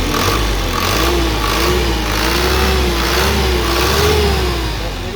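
A 2014 Isuzu Elf NKR71 long truck's diesel engine runs close by, holding a steady, loud droning hum with gentle rises and falls in revs throughout, with no talking.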